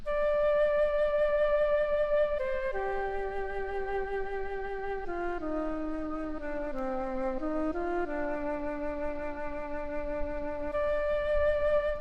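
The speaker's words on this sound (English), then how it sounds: "No, it's a flute actually." A soft, airy synthesized flute preset called Flute Echo plays a slow melody, stepping downward in sustained tones and then rising back up, with no voices.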